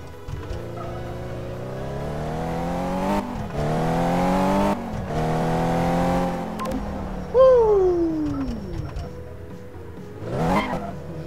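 A car engine in the video game Car Mechanic Simulator revs up repeatedly in rising sweeps, cut by brief gaps, then a high squealing whine slides down before a final short rev.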